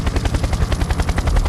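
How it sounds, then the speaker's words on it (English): Rapid, steady machine-gun bursts come from a US Navy helicopter firing on a drug smugglers' speedboat at sea, mixed with a heavy rotor throb, loud and continuous. "A U.S. Navy helicopter opening fire on drug smugglers in the middle of the ocean"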